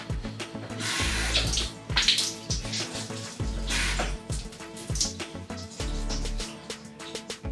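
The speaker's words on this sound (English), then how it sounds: "That's the sound of the sink draining into a measuring cup" A bathroom sink draining into a measuring cup, with running and gurgling water, sharp recurring splashy hits, and a rough, busy texture throughout.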